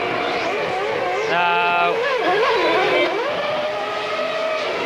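Formula One race cars scream through the pit lane at the 1994 Adelaide Grand Prix, high whining engines rising and falling in pitch under continuous excited commentary.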